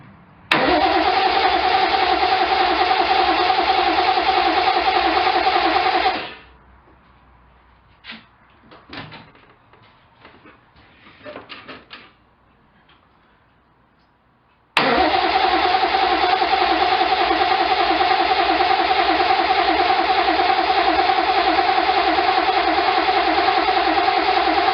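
1972 Triumph TR6 engine runs loud and close with a rough, uneven note, cuts out for several seconds with scattered clunks and handling noises, then restarts and runs steadily again.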